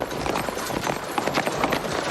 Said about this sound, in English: That's a lot of horses.